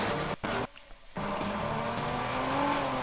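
A car in the Watch Dogs video game races along with a loud engine drone and tires squealing through a turn, the sound cutting out briefly near the start before the revving resumes.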